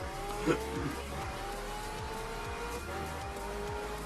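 A GB Mini skids through a small village in Forza Horizon 4, tyres scrubbing beneath a constant engine roar, with a sharp burst early and further brief squeals riding over the continuous drone.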